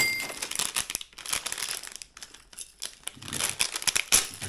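Small plastic packets of fishing tackle crinkle and rustle close up in irregular bursts of handling, with brief quiet gaps between them.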